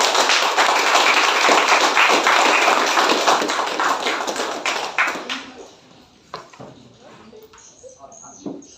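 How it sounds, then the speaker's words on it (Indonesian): Audience claps for a village head candidate at a campaign vision-and-mission gathering, a dense burst of applause that fades away over several seconds into scattered claps. "mari kita berikan dulu aplaus kepada calon kepala desa"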